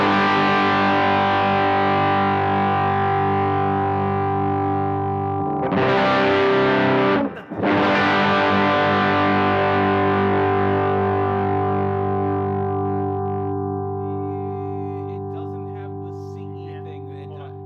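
Electric guitar runs through a Sugardrive Klon-style overdrive pedal, with long, loud sustained driven chords, a brief restrike midway and a slow fade as the notes ring out.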